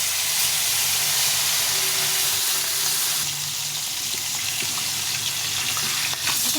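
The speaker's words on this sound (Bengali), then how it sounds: "তেলটা গরম হয়ে গেছে এখন মাছগুলো ভেজে নিচ্ছি" Fish frying in hot oil in a kadai for a cauliflower and new-potato fish curry, a loud continuous hiss and sizzle, close by, with no one talking.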